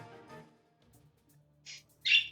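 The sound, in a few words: loud bird squawking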